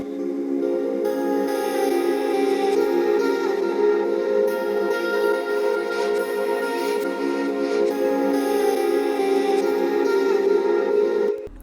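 A Serum synth sample plays a chord progression with no effects, dry sustained tones with warm low-mid body and soft chord changes, steady and loud throughout, alone with no speech.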